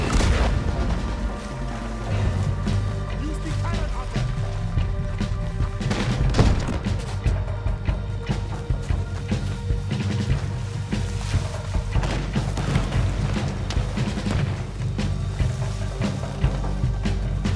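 Repeated heavy booms and crashes of cannon fire in Red Dead Redemption 2 over a dense, rumbling background of battle noise, irregular and loud throughout.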